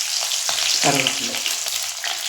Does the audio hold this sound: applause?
no